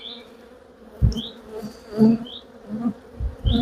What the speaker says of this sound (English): There's quite a lot of bees flying around the